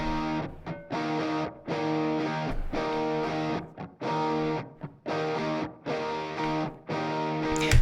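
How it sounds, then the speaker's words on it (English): Heavy distorted guitars chug root chords in a power-chorus section of a pop track, loud, layered blocks cut off by short rhythmic gaps, with no talking. "we've got some more heavy guitars"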